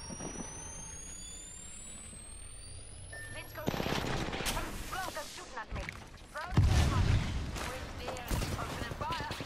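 Gunfire crackles in the video game Apex Legends. After a quieter opening, rapid bursts of automatic fire begin and keep coming in loud clusters, mixed with talk.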